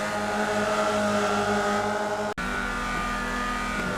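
An old race car in the iRacing sim drives at Summit Point, its engine droning steadily at high revs with a brief cut in the middle, then the tone drops lower.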